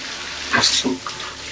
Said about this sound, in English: Nice shower, nice pressure.